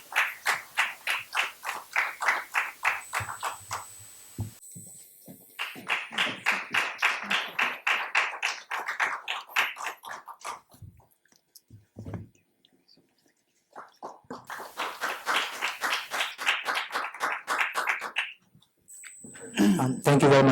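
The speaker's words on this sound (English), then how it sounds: "a big round of applause for Professor Sudhamahi ji." Audience at a lecture event gives a round of applause: clear bursts of clapping in three stretches, each a few seconds long, with short quiet gaps between them and no talk over it.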